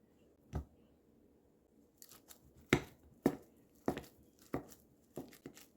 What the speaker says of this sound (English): We're going to mash the bananas while the butter is cooling.